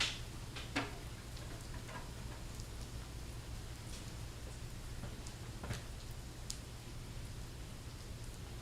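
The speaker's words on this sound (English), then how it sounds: "Hearing the rain is soothing" Rain falls outside a warehouse space, a soft, steady patter with occasional sharper drips, faint and constant beneath a low electrical hum.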